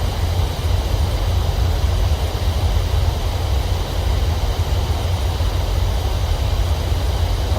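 A PMDG 737-800 BBJ2 in the MSFS2020 flight simulator roars under reverse thrust on its landing roll, a loud, steady, broadband jet rumble that holds unbroken throughout.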